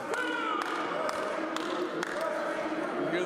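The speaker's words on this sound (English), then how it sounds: "You hear the fans chanting Krusty Krew here" Wrestling crowd at an Epic Pro Wrestling show chanting Krusty Krew, a steady roar of many voices with rhythmic claps and thuds over it, a commentator talking on top throughout.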